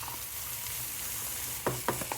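Chopped chilies sizzle and crackle steadily in a curry pan alongside garlic and ginger, with a few short scraping stir strokes near the end.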